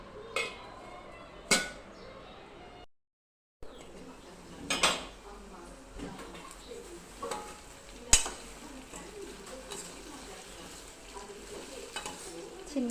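Potatoes and brinjal cook in oil in a pan, a low steady sizzle under occasional sharp clinks of a spoon as the vegetables are stirred, close by.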